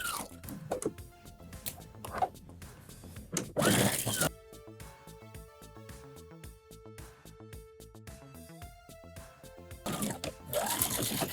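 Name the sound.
sewing machine stitching a garment seam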